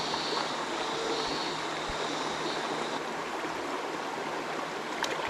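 A creek flows with a steady broad rushing wash, continuous and fairly close, with no voices over it.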